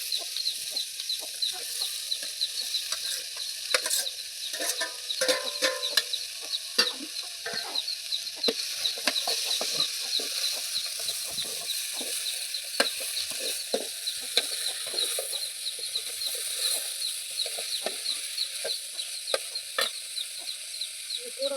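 Cooked broad beans, black beans and brinjal tipped and stirred into a hot pan, a long continuous sizzle with scattered clicks and scrapes of stirring, with faint fowl clucks in the background of a village setting.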